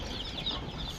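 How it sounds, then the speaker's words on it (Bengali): Chicks in a brooding shed keep up a dense, continuous high cheeping and clucking, close by and fairly loud, with no talking. "এইখানে কতগুলো মুরগির বাচ্চা একসাথে ব্রুডিং হচ্ছে?"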